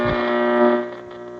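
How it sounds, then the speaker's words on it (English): A vintage tube radio searching for reception makes a warbling, distorted electronic hum with wavering tones, briefly swelling then fading as it drifts between stations. "these are tube radios and the tubes actually have to warm up inside"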